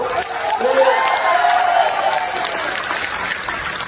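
A large crowd at a political election rally claps loudly and steadily, with scattered cheers and whoops rising over the dense applause.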